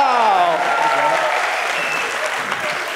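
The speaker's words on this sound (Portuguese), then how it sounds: "Uma salva de palmas!" Steady audience applause fills a comedy stage show, a dense wash of clapping from a crowd that holds fairly even throughout, with faint musical tones fading under it at the start.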